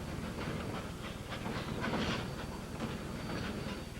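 Train on the Chama mountain railroad rolling through the mountains near the Los Pinos water tank, a steady continuous rumble with faint rhythmic clatter throughout, fairly close and constant.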